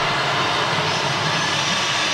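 Ryanair Boeing 737 jet at Manchester Airport on its takeoff run, a steady, loud broadband engine roar filling the whole moment with no voices.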